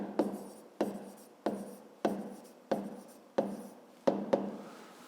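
Handwriting an equation on paper for a fifth-grade maths exercise. About eight evenly spaced pen strokes land close to the page, each a sharp tap fading into a light scratch, quiet and with no speech.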